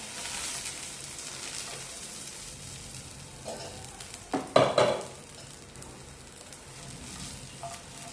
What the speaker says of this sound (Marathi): हलकासा खोबऱ्याचा देखील कलर चेंज होईपर्यंत आपण हे व्यवस्थित भाजून घेऊया